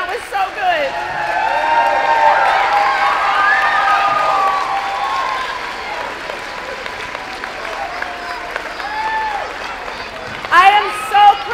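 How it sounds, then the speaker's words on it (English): Parents clapping and cheering at a second-grade pajama concert, enthusiastic applause with children's shouts and chatter mixed in, tapering to lighter clapping and voices before a brief burst at the end. "Clap again, that was so good."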